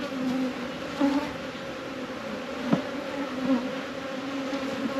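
Honeybees roused during a hive inspection buzz steadily and close, a dense insect drone that holds for the whole stretch, with brief louder swells as individual bees pass near.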